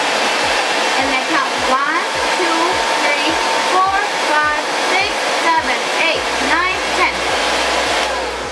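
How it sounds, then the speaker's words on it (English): Steady, loud blowing whoosh of a hair dryer running continuously on its cold setting, with faint rhythmic clicks beneath and no talking. "And then I turn my dryer on the cold setting."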